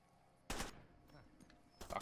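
Gunfire in the shooter game Far Cry 2, with two loud sudden bursts, one just before the midpoint and another near the end, separated by softer ambient game noise.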